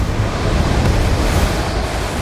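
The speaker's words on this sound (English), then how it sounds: "the storm has already landed, creating massive waves" Heavy storm waves crash and churn at sea in a dense, unbroken roar with wind noise, loud and close throughout before cutting off abruptly at the end.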